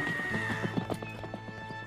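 Horse in a cartoon setting, heard as a whinny layered with quick, rhythmic clip-clopping hooves and sustained musical tones underneath, at moderate level across a short burst.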